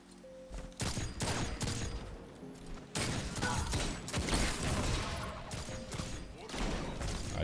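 Shotgun shots in Destiny's Trials mode, sharp loud blasts separated by a few seconds amid dense gunfire and game action, with little talking.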